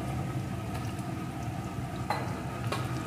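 Chopped tomato frying with onion and garlic for spicy chicken curry, a steady close sizzle with a few light scrapes of a stirring spoon.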